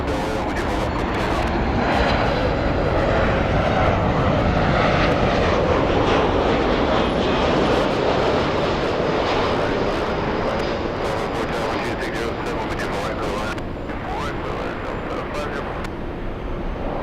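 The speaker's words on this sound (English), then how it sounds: "lining up, we have the Southwest 737 flying to Tampa" A Southwest Boeing 737 takes off from LAX with a loud, sustained jet-engine roar that holds steady for about seventeen seconds and fades slightly near the end.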